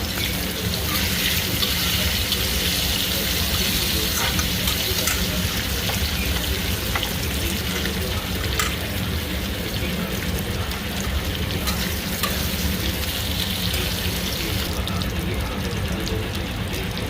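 Potatoes and eggplant seasoned with salt and turmeric sizzle steadily in a pan, giving a continuous dense hiss and crackle at close range for the whole span, with no one speaking.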